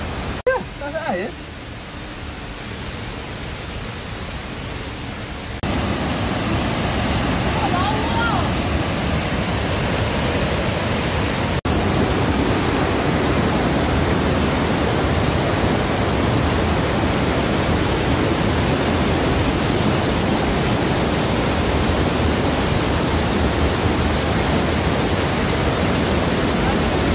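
Waterfall on the Lata Berdebu hiking trail in Malaysia, a steady broadband rush of falling water that grows louder after a few seconds and then holds constant and close, with brief voices at the start.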